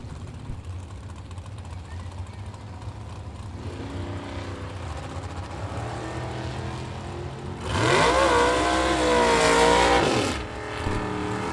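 Lee Butler's Camaro running down the drag strip at a fall bracket race, a distant engine drone building, then a loud, close roar sweeping past for about three seconds before fading, with a faint announcer voice beneath.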